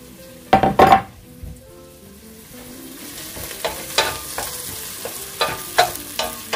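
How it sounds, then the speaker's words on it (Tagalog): Garlic stir-frying in a pan for pork estofado, a steady sizzle broken by a few sharp utensil scrapes and clanks against the pan, with no voices. "Pwede na i-add yung ating garlic."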